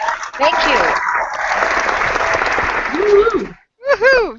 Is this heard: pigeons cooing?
no